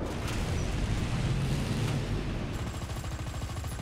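A tank machine gun fires in the War Thunder tank video game, a loud, continuous rapid rattle over heavy engine rumble that thins out toward the end.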